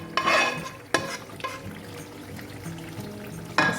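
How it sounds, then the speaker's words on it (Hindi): A spoon stirs cooked spinach, seasoned with black and white pepper and butter, into chicken in a pan, giving close wet scraping and soft sizzling with a few sharp clanks. "बस हमें यहाँ पे पालक को चिकन के साथ मिक्स कर देना है।"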